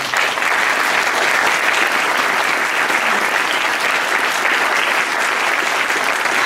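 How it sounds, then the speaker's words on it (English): An audience at a Darwin Day event in Carmichael, California applauds steadily, a dense, even wash of clapping that holds at full strength throughout without pause. "So let's applaud them all."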